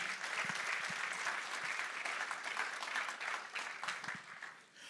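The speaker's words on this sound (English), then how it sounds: "Can we have a round of applause for the Honorable Minister?" An audience applauds the Honorable Minister at the closing ceremony of the 6th Transform Africa Summit, steady dense clapping held at an even level for the whole stretch, then easing slightly at the very end.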